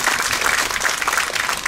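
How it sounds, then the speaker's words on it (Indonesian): Audience applause fills a government working-visit meeting in NTT province, a dense, steady wash of many hands clapping at moderate volume for the whole short stretch, with no clear speech on top. "Perlu tepuk tangan dulu, karena ini hebat ya."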